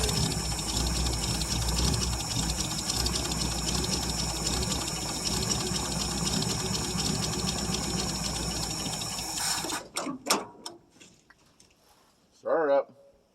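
A 1959 International B120 4x4 truck, not run in about five years, runs with a rough, close engine drone for about ten seconds, then cuts out into sputters and knocks, with a voice near the end.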